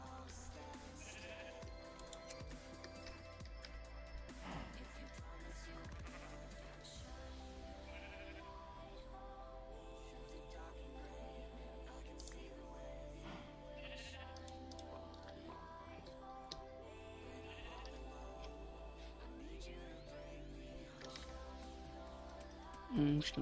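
Sheep bleat faintly in the Minecraft video game, soft calls repeating over steady background game music.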